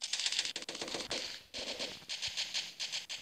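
Rapid bursts of gunfire from the Kuboom video game crackle in quick repeated volleys, played as close, fairly loud game audio with no talking.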